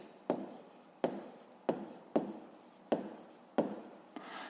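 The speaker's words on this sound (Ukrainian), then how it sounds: "Записуємо." A pen writes out the answer to a fifth-grade math exercise in six or seven distinct scratchy strokes, each starting sharply and then tapering off, close and quiet with no voice.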